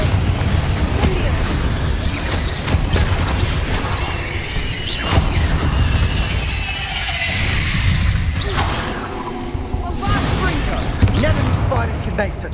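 Confringo fire spells bursting in Hogwarts Legacy, a dense run of booming blasts and crackling impacts that keeps going under heavy layered game noise with repeated loud hits.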